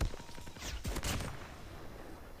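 Gunfire in Call of Duty Mobile: a few sharp shots crack in quick succession near the middle, then ringing decay, moderately loud over a quiet game background.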